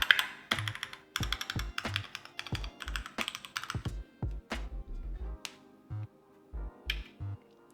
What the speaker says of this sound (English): So these are the brown switches, and they sound nice and